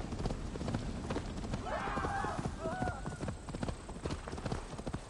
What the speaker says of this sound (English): Just climb on your horse.